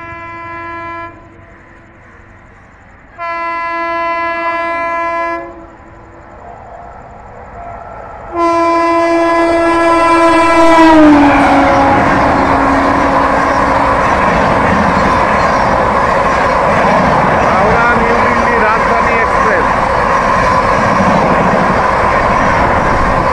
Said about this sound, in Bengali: এটা হাওড়া নিউ দিল্লি রাজধানী এক্সপ্রেস গেল